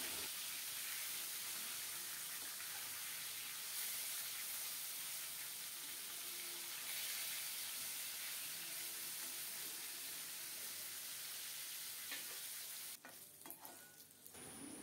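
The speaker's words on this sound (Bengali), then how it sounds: "মাছগুলো উল্টে পাল্টে লাল লাল করে ভেজে নেব।" Rohu fish pieces fry steadily in hot oil with a continuous sizzle and crackle, turned now and then as they brown; the frying noise fills the whole stretch with a brief clatter near the end.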